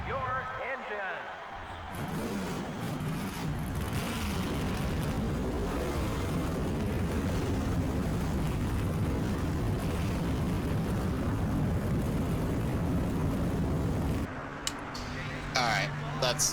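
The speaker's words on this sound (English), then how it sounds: "Gentlemen, start your engine." Race car engines in the NASCAR Thunder 2004 video game at Sonoma, a dense, steady roar of many engines running together for most of the stretch, loud and continuous, then cutting out near the end.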